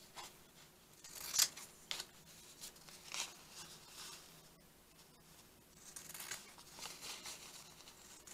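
Scissors trim around a paper journaling card: soft, close snips and rustling paper in a quiet room, with a few louder cuts and crinkles scattered irregularly.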